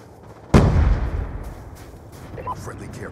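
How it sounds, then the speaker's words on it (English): A Hellstorm missile strike in Black Ops 2 lands as one sudden, heavy explosion with a deep boom that rolls off into a long rumbling tail. Faint game effects continue underneath. "Hellstorm missile inbound."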